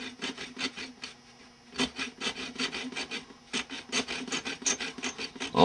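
A brittle plastic body for a 1962 Fairlane is hand-cut at an angle, giving a steady series of close, rasping back-and-forth sawing strokes with brief pauses between runs.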